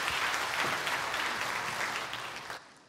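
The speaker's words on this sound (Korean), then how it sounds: "박수로 하나님께 영광 올려드리겠습니다." Congregation applauding during a Sunday worship service in a church, a steady, dense wash of clapping that holds for about two and a half seconds, then stops abruptly.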